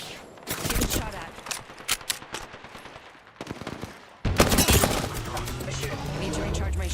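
Video game gunfire as the player comes under attack, rapid bursts of shots and crackling impacts with shattering sounds, then a sudden louder barrage, while a voice talks over the action.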